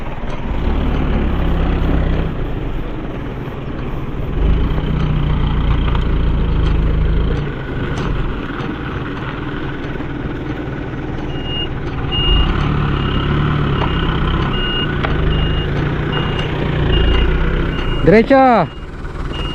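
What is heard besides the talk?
dump truck engine and reversing beeps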